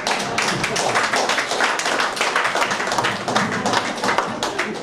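Audience clapping at a blues concert, a dense steady wash of many hands that holds at a fairly loud, even level from start to finish, with no voices standing out.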